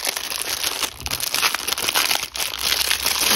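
Rattly paper crinkles and crackles steadily while a diamond painting kit from an AliExpress order is unwrapped, a dense close-up rustle running throughout with slight dips in loudness.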